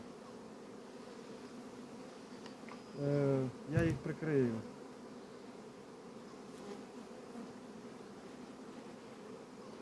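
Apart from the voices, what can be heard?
honey bees around a hive split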